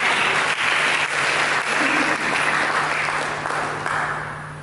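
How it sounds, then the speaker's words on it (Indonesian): Church congregation at a sermon applauding together in a thick, continuous wash of clapping that holds steady and then gradually fades toward the end, with a faint low hum underneath and no speech. "Mari berikan tepuk tangan kepada Yesus."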